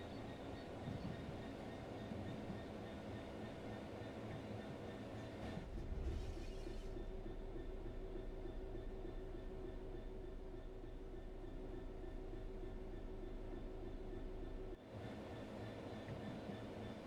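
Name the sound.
train coasting on rails in video game Train Sim World 3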